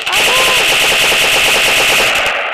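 Automatic gunfire in the mobile shooter game Special Forces Group 2, a loud, continuous rapid burst of shots filling the whole moment without pause.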